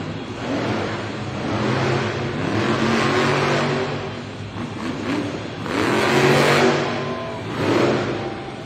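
A monster truck called Uproar at a Monster Jam event in Raleigh, NC roars loudly as its engine revs and surges in long waves while it pulls a wheelie up a ramp on its back two BKT tires, with no talk over it.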